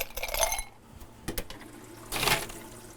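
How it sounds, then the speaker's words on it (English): Ice cubes dropped into a glass for a blood orange cocktail give a few sharp clinks and clatters, close and brief, separated by rustling handling noise. "take a nice glass, put some ice in"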